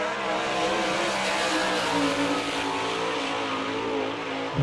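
Sprint race car powered by a Westmar racing engine running a qualifying lap at Barberville, Florida dirt track, a loud sustained high-revving engine wail with shifting pitch, no talk.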